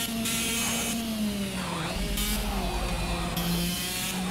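A super kart's engine in the racing game Project CARS drones with a high, vacuum-cleaner-like whine that wavers slightly in pitch and runs continuously throughout.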